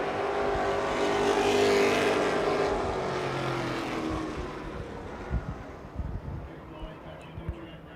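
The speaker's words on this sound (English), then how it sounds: "we got 1 car around at the bottom of turn number 1 and 2" Limited stock cars race on the dirt oval at Virginia Motor Speedway during a qualifying session, a loud engine roar swelling as a car passes near, then fading into rumbling distance with scattered thumps.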